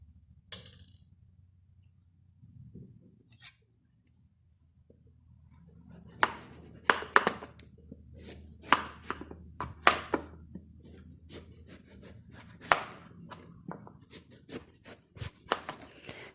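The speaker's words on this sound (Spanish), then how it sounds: "vamos a comenzar con picar nuestra calabaza" A knife chops through squash on a cutting board in a home kitchen: after a quiet start, a run of sharp, irregular thunks sounds close by and alone.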